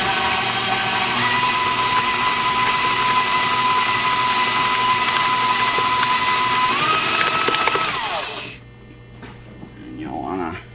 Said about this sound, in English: And then we'll blend that in.